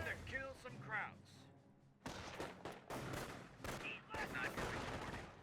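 Bursts of MG42 machine-gun fire in the World War II strategy game Company of Heroes, loud rapid volleys starting after about two seconds and continuing, mixed with other battlefield gunfire and someone talking over the action.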